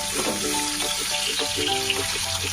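Marinated fish frying in a pan over a medium-low flame, a steady close sizzle with faint clinks and scraping in the background, no talking.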